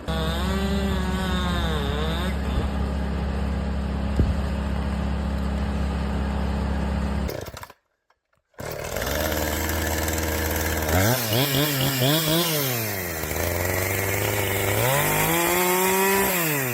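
A chainsaw cutting tree branches, the engine snarling loud and close, briefly dropping out, then rising and falling in repeated revving sweeps as the blade bites.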